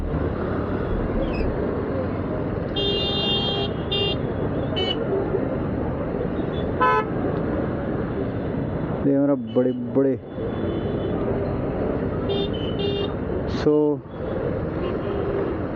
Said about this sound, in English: 75 years of freedom to stay in traffic